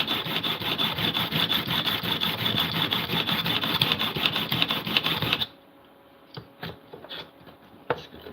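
Japanese plane blade rubbed on a 200 grit sharpening stone: a loud, dense, continuous scraping for about five seconds, then a sudden stop followed by a few faint knocks and handling taps.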